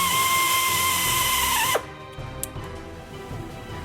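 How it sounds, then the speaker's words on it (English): A power drill whines steadily at close range, drilling a pilot hole in a tie rod for a grease fitting, then cuts off abruptly, leaving a few faint clicks and mechanical rattles. "First he drills a pilot hole before we drill the exact size before installing the Zerk fittings."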